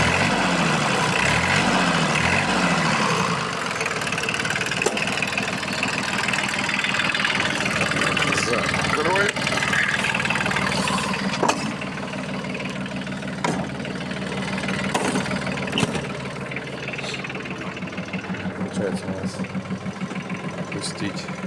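A Yanmar AF18 Japanese mini tractor's engine runs steadily with a close, knocking diesel clatter, its speed rising and falling slightly throughout, while a voice talks over it.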